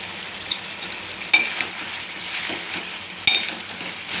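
Tomatoes fry in a pan for chutney, giving a steady soft sizzle throughout with a couple of sharper clinks or stirs near the start and later.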